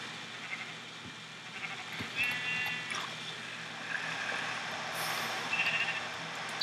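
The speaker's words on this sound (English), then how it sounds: "Whoa, there's a lot of sheep over here." Sheep bleat in Minecraft version 1.8 survival mode, a few faint, scattered cries from a flock over a steady ambient game background, with no speech.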